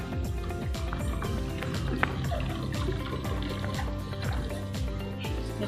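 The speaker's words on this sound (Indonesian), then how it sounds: "Ini larutan nutrisi untuk sayur. Kita tinggal tuang di media." Vegetable nutrient solution poured into a growing medium, heard as a steady liquid trickle and pour running throughout at close range, with the level steady and no clear talking.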